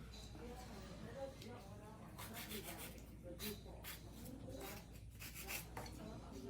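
An acrylic nail is filed by hand to a point, with repeated short rasping strokes close up, fairly quiet, in irregular bursts.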